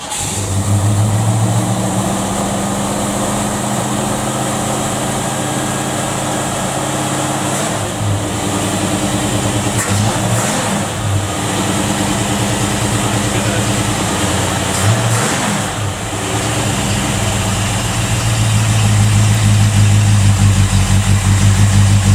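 A 1968 Mercury Cougar V8 with an electric choke cranks, catches and runs at a high, steady idle, engine revving up and down in a loud, continuous drone close by, with no talk over it.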